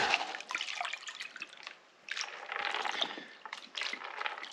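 A big chunk of volcanic rock dropped into a pan of water sloshes and splashes in short bursts, close and fairly quiet, with wet trickling between the pours.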